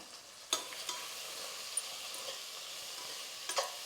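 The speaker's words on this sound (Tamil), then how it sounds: "இது எல்லாம் சேர்த்து ஒரு நிமிஷத்துக்கு வந்து இந்த மசாலாலாம் எண்ணெயில் வதங்கட்டும்" Spices such as asafoetida and turmeric with salt sautéing in hot oil in a pan for rice and dal, a soft steady sizzle with a few brief stirring clinks and scrapes, close by with no talking.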